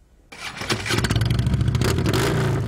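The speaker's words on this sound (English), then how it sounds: "Today is the final day of the Raht Rally, the largest motorcycle rally in Texas." A motorcycle at the Republic of Texas (ROT) Rally motorcycle rally in Texas starts up abruptly and roars loudly close by, its engine revving and rumbling steadily with a heavy low throb.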